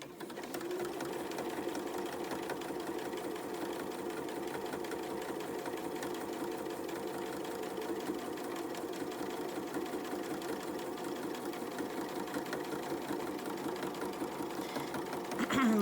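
A sewing machine runs continuously stitching fabric, a rapid, even mechanical whir and tapping that holds steady throughout at close range.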